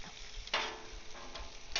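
Lobster mushrooms fry on a Blackstone griddle with a soft steady sizzle, broken by a few short scraping bursts as they are turned, with no voices.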